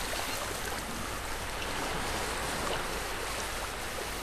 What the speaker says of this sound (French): Les vagues viennent lécher vos orteils